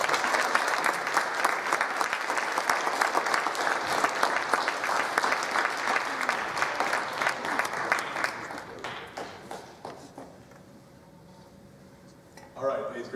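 A school auditorium of eighth graders at a Veterans Day program claps loudly for Mr. Patrick, dense steady applause for about nine seconds that thins into scattered claps and then quiet room noise with a brief voice.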